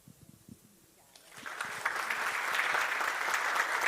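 Audience applause after a panel talk on journalism and literature, starting after a few isolated sounds and growing into a steady round of clapping from the room.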